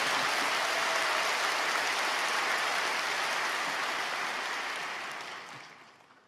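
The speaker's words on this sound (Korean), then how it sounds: "외국에서 오신 분들을 위해서 한번 뜨거운 박수로 격려해 주시기 바랍니다" Warm applause from a church congregation welcoming foreign delegates at the opening service of a Church Growth seminar. A dense, steady roar of clapping holds strong, then fades away over the last second.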